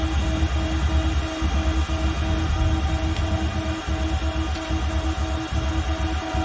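Engine number two of an F-14 Tomcat spinning up in a flight simulator game, a dense, steady mechanical whir with low pulsing throbs and layered tonal hum, loud and continuous throughout.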